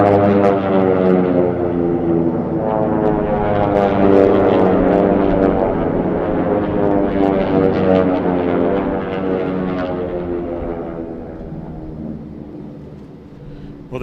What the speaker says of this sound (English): We're going to get to see and listen to these aircraft come by here by the Stihl start-finish line pylon.